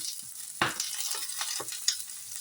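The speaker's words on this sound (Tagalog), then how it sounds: "Fry ko muna yung carrot at saka patatas." Small pieces of carrot and potato fry in a pan for guisado, a close sizzle broken by a few sharp crackles and stirring scrapes, with no voices.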